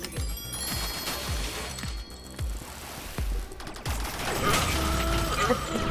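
Rapid bursts of gunfire from a first-person shooter match in Rec Room, sharp repeated shots and volleys in quick succession with excited voices shouting over the action.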